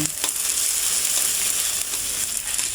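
Rice bran oil sizzles with central Thai curry paste in a pan, a steady close frying hiss with light scraping and stirring clicks throughout, no voices.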